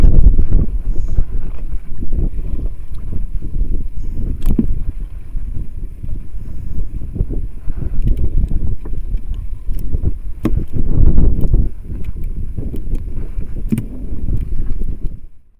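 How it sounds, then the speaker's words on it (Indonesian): Strong wind buffets the microphone on a fishing boat at sea while waves slap and splash against the hull, loud and continuous with gusty surges, no talking. "Semakin lama semakin membesar ini anginnya, ombaknya juga udah mulai lumayan ini."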